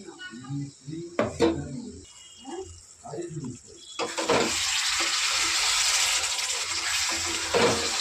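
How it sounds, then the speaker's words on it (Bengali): Rinse water from a mixer bowl is poured into frying masala, setting off a sudden loud, steady hissing sizzle after a stretch of talking. "এখন একটু এর মধ্যে দিয়ে দেবো মিক্সির বাটি ধোয়া জলটা।"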